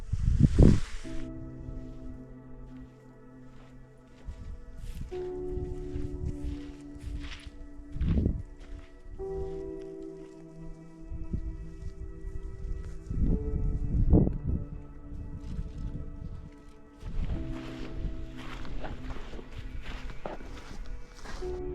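Footsteps hiking through dense bush in the Ruahine Range, New Zealand: irregular crunching and brushing steps through vegetation, close by, with rustling between them and no talking.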